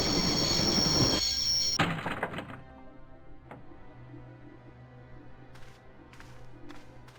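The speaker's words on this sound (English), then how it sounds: "I always wanted to stop the train, and now was my chance." A train braking to a halt in the video game Broken Sword: Shadow of the Templars, with loud rumbling and screeching for nearly two seconds, then a quieter hum and scattered clanks as it settles.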